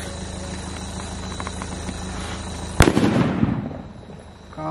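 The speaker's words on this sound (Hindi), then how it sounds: "काफी तगड़ा था दोस्तों बुलेट बॉम्ब।" A bullet bomb firecracker goes off during Diwali cracker testing. A fizzing fuse builds first, then one sharp, loud blast is followed by a fading rumble and crackle.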